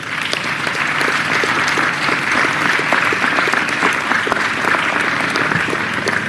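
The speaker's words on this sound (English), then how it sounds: "Let's give them a big round of applause." Sustained applause from an audience at a mayoral announcement on city climate change efforts, steady and dense throughout with no speech over it.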